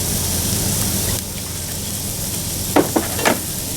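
Loud, steady sizzle of asparagus frying in oil on a discada, with a few brief clinks and scrapes of stirring near the end.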